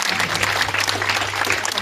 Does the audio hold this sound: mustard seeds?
no